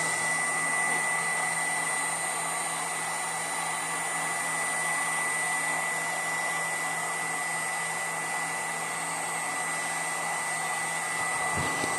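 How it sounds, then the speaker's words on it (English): A blow dryer runs steadily and loudly close by, drying fresh stain on a patched hardwood floor. The whirring drone and airflow hiss stay unbroken for the whole stretch and cut off abruptly at the end. "So you can see I got the blow dryer on it right there"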